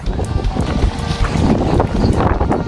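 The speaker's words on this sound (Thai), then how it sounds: "ตอนนี้ลมแรงมากเลยนะคะ" Strong wind blows at a kite festival, a loud, steady buffeting roar with heavy rumble across the microphone throughout, no clear voices above it.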